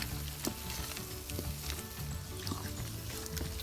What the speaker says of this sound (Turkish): Bu tuzu ve zeytinyağı salçamıza yedirelim